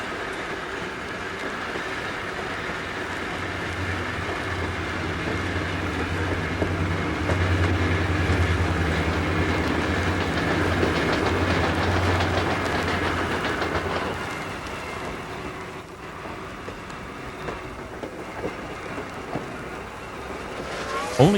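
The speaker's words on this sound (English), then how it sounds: "The train eases its way past a reefer block while waiting for Train 17 and its Warbonnet head-end tower" A Santa Fe steam locomotive, number 3759, hauls a train eastward past a reefer block toward San Bernardino, a steady rumbling roll with low throbbing and rail clatter that stays loud and continuous before easing slightly.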